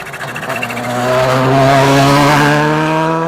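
A Volkswagen Polo rally car, number 9, on a short wet Mull Rally shakedown stage, its engine rising to a loud, close, harmonic roar as it approaches and holds full throttle past.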